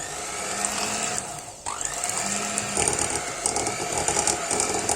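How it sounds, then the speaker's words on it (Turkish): An electric hand mixer on a low setting whirs steadily with a high mechanical whine, beating cookie dough with an egg, briefly cutting out and restarting, then continuing to beat close up. "Mikserin düşük ayarında çırpıyorum."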